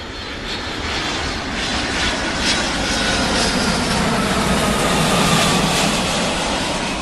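Steady, loud roar of airliner engines inside the cabin of an A310, a broad constant rumble and hiss that holds unbroken throughout.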